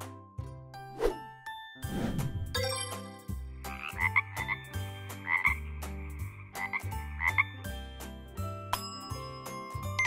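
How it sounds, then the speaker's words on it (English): A wild frog croaks in repeated short, rhythmic calls over a layered background of other night creatures, moderately loud and close. "Frog."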